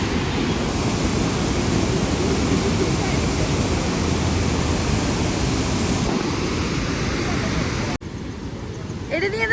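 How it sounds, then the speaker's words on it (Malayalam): Water rushes with great force through the opened dam shutters at Bhoothathankettu, a loud, steady roar close by for about eight seconds before it drops to a quieter, more distant wash. "വളരെ ഫോഴ്സിലാണ് വെള്ളം പോയിക്കൊണ്ടിരിക്കുന്നത്"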